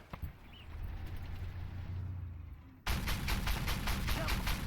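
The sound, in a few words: tank shell ricochet in Armored Warfare video game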